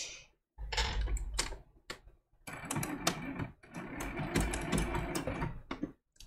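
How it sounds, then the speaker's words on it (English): Home sewing machine running a blanket stitch on a turkey appliqué quilt block, with fast rhythmic needle clatter in bursts separated by short pauses, close and moderately loud, no voices. "The default of the blanket stitch on my machine is so tiny."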